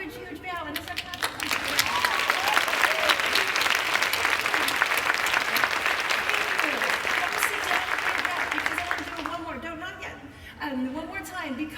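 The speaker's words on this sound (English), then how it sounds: "Take a huge, huge bow, and just start clapping." A large conference plenary crowd breaks into sustained, loud clapping that swells and fades, with voices speaking before and after the applause and some laughter.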